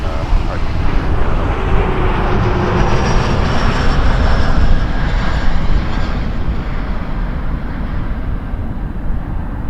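A regional jet landing at Toronto Pearson airport at dusk: a loud, continuous broadband engine roar with wind rush that holds steady for several seconds and thins slightly toward the end.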